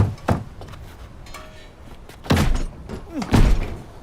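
Heavy banging on a door in a tense film scene, with three loud bursts of thuds, one early and two later, separated by a quieter stretch.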